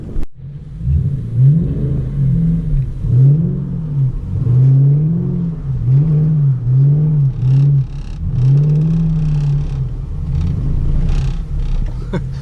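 A Ford Mustang GT doing donuts in snow, its engine revving in repeated rising and falling surges, close and loud, with tires churning between revs.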